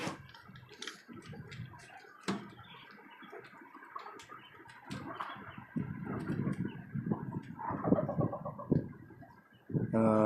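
Desi and tiger hens clucking and chattering close by in a cage, with scattered sharp clicks and rattles and brief bursts of louder squawking.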